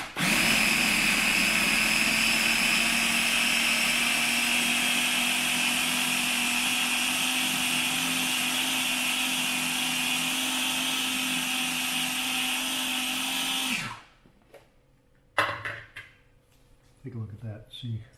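A blender whirs loudly and steadily as it pulses meat down for pâté, then cuts off abruptly. A few clatters and handling noises follow in the quiet.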